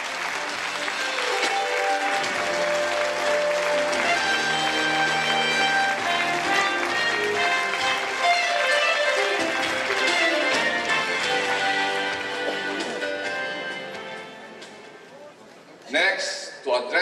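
A large audience applauds steadily for the International President at the closing ceremony of a forum, with sustained dense clapping that slowly tapers before a voice speaks at the end.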